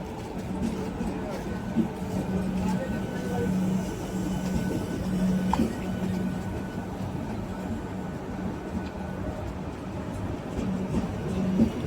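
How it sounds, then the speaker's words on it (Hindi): A double-decker passenger train pulls out of Lucknow Charbagh railway station with a steady low rumble and rolling wheel noise, moderately quiet and continuous, with a faint voice in the background. "चलिए डॉन ऑन टाइम निकल चुकी है ट्रेन डबल डेकर।"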